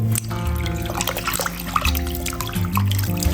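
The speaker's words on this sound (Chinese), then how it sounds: "剔好骨头以后倒上水再洗一遍" Water pours and splashes over deboned chicken leg pieces being rinsed in a bowl, a close, continuous trickling with small drips and clinks.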